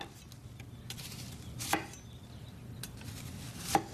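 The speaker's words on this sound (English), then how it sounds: "I like to kind of slice this in a fan pattern, position the knife so that you can cut through everything but the root again." A knife slicing a vegetable in a fan pattern on a cutting board: two sharp, separate taps of the blade against the board over a quiet background.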